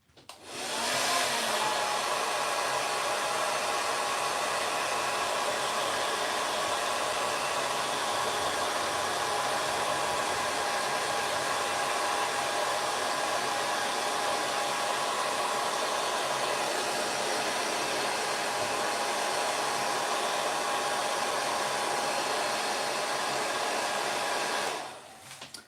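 A hair dryer blasts air over a freshly painted Ork miniature, a loud, steady roar of rushing air that runs unbroken for about twenty-five seconds before cutting off, with no talking.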